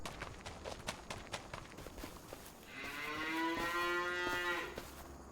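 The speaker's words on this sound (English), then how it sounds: "Got 50 cows in here." Dairy cows in a North American free stall barn holding about 50 head, with a single long, loud moo rising after a stretch of shuffling hoof steps and clatter.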